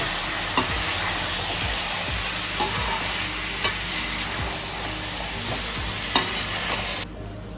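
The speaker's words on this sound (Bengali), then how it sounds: "সবগুলো দেওয়া হয়ে গেল, ভালো করে মিক্স করে নেব।" Chilli chicken stirred and tossed in a frying pan, a steady close sizzle broken by periodic scrapes and knocks of the spatula against the pan, cutting off abruptly near the end.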